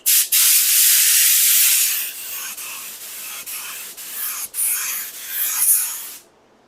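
Spray gun dusting a light coat of paint onto one spot of a car or truck body, a loud steady hiss for about two seconds, then shorter bursts with brief pauses.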